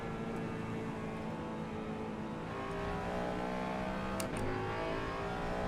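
A Ford Mustang race car in Assetto Corsa EVO drones steadily at high revs on track, a constant close engine tone with slight pitch shifts and brief clicks, no pauses.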